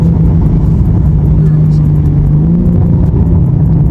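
A 700 hp BMW G80 engine holds a steady, loud, droning rev, a deep constant rumble that sits at one pitch with a slight rise near the end.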